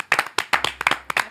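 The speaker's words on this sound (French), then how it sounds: "On peut l'applaudir" A few people clapping briefly, a quick burst of sharp, uneven hand claps close by.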